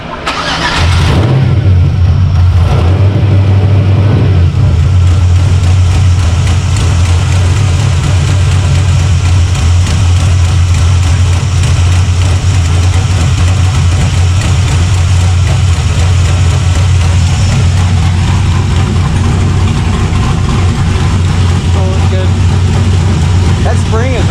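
Loud, steady car engine idling on a dyno at KB Racing, catching after a rough start with a few uneven stumbles, a constant low rumble with voices talking over it.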